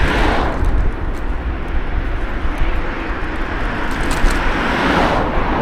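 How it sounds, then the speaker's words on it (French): Car traffic rumbles past while riding an electric scooter at about 25 km/h with the helmet visor open. The sound is loud, steady and broadband, and wind buffeting blends into the passing road noise. "Il y a quand même pas mal de bruit de voiture et tout."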